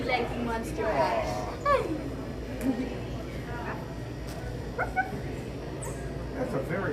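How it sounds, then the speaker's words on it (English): A small dog yips and whimpers in short, high bursts against a low background, with voices talking around it. "That's a very friendly dog."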